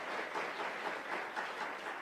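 Audience applause at a seminar, steady dense clapping from a crowd filling the whole stretch without any voices.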